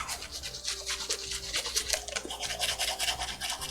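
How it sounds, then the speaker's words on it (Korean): Close-up toothbrush scrubbing on teeth, a steady rapid rhythm of wet, bristly brushing strokes heard continuously and intimately, ASMR style, with no talking. "양치 ASMR"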